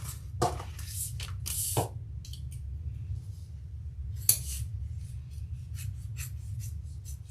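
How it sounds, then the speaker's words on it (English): Scissors cut out the center of a fabric overlay for a Dopp kit toiletry bag, with a few short, quiet snips and rustles spread over a low room hum. "I'm going to use my Dopp scissors."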